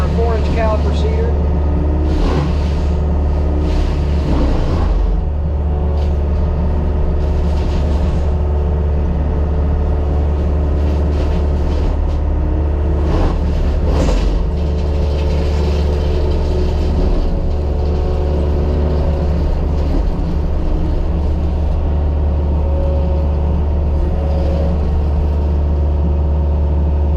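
A Yanmar VIO50-6 excavator running a Simatech heavy hammer flail on a small cedar tree produces a loud, continuous engine drone with a low hum, broken by repeated crunching, thrashing bursts as the flail chews the wood.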